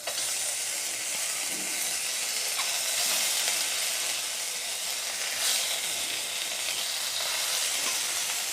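Pieces of fish frying in hot oil in a wok on a gas stove, a steady loud sizzle that holds for the whole stretch with faint crackles and no talking.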